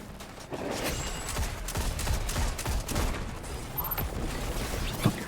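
Turrets in the video game Destiny 2 firing steady, rapid streams of shots. The sound is dense and continuous, with some heavier booms mixed into the busy game noise.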